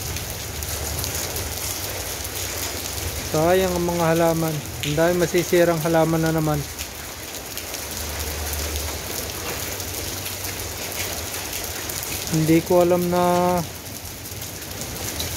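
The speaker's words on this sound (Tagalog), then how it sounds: "Lalong lumalakas ang patak ng yelo, guys" Hail pelting down hard in a sudden storm over a garden of plants and calamansi, a steady dense roar of icy pellets throughout, with someone talking over it in bursts.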